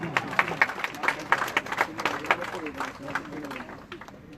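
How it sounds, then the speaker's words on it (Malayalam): Applause from an audience at a community ceremony in Canada, a steady patter of many hands at moderate level with some crowd noise and talk mixed in, lasting several seconds. "നല്ലൊരു കൈയടി നമുക്ക് നൽകാം."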